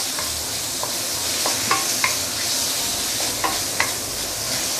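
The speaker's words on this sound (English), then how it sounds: "once you smell the fragrance coming up from the wok, put in your pork belly" Pork belly fries in a hot wok with a loud, steady close-up hiss, interrupted by a few scattered scraping clicks from stirring, and nobody talking.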